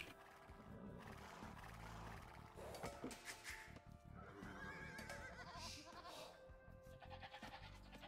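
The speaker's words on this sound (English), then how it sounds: "Oh, there were the other goats." Quiet Age of Empires II game audio with goats bleating among other animal calls such as neighs and growls. The calls are layered over a busy background of game sounds and run for about eight seconds.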